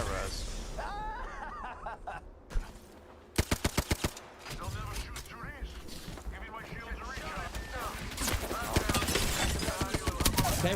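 Apex Legends gunfire: a tight burst of sharp shots cracks out mid-clip, with more scattered shots later, under players' chatter and laughter.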